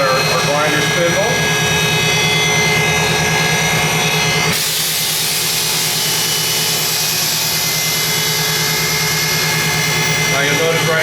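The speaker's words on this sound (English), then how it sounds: "Now you can see the table going around. We've got our grinder spindle." Strasbaugh 7X 18-inch glass grinder running with its table rotating and grinder spindle turning, a loud steady mechanical hum and whine that shifts abruptly partway through, with someone talking over it.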